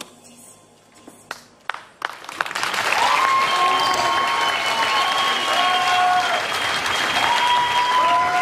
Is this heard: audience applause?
yes